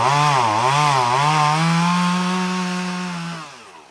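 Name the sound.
chainsaws pruning tree branches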